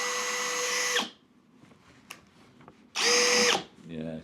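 Cheap brushless drill driver on speed setting 2, whirring at a steady pitch in two bursts of about a second each separated by a pause with faint handling clicks, loud and close.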